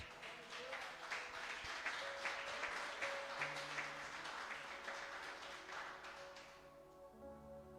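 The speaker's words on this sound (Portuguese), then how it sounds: "Aplauda o Senhor Jesus" A church congregation claps together during a worship service, a sustained round of fairly close hand claps over a soft held tone, fading away near the end.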